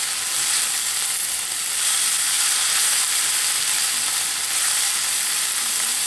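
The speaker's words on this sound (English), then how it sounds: "nothing smells better than onion and garlic cooking." Onion and garlic frying in a pan give a steady, loud, close-up sizzle that hisses on without pause and without any voices.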